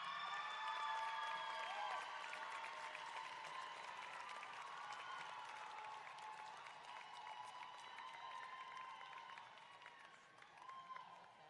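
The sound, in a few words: graduation crowd applauding and cheering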